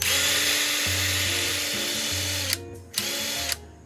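A toy engine revving at a wild 3,000 RPM with pistons and fan spinning, a loud steady high-pitched whine with pulsing low hum, briefly cutting out twice near the end before surging back.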